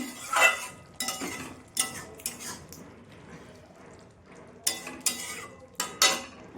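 Metal pot lid lifted off a cooking pot during Bengali home cooking of a bean-leaf dish, a series of clanks and scrapes in separate bursts over quiet kitchen background, no talk.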